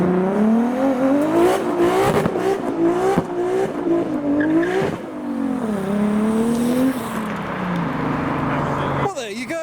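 An 830hp Toyota Supra at a custom car meet revs hard and accelerates past nearby with loud, rising engine pulls and gear changes, while people talk and shout over it.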